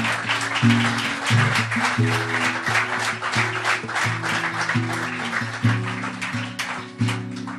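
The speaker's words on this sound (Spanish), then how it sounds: "Dale un aplauso fuerte al Rey, claro que sí." A Spanish-language worship congregation applauds loudly over a rhythmic band, with bass notes pulsing beneath dense, continuous clapping that fills the room.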